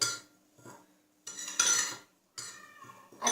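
Nihari masala spices with red chilli powder and turmeric mixed in a bowl, a metal spoon scraping and clinking against the dish in several short bursts, close and fairly loud, with no talking.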